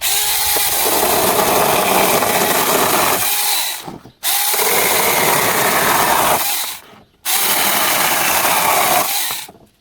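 A cordless Assur pruning saw cuts through wood in three loud, close bursts of buzzing, rasping noise, each lasting a few seconds and separated by short silent gaps.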